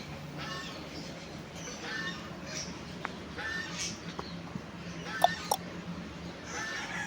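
Turkey calls sound faintly in the distance over steady background noise, with a few short sharp clucks and chirps.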